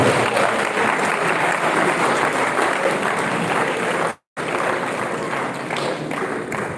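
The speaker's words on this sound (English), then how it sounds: "Let's clap for Jesus." A church congregation claps for Jesus in a steady, loud wash of applause, cut by a brief silent gap partway through before the clapping resumes.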